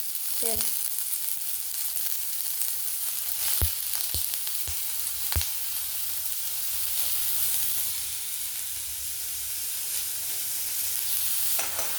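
Onions frying in hot oil in a wok, a steady broadband sizzle running the whole time with a few sharp clicks of a utensil against the pan, close and alone without talk.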